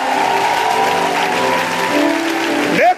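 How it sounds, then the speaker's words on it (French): Church congregation applauding together, a steady dense clatter of clapping throughout that swells slightly near the end. "acclame, acclame, acclame, acclame, acclame."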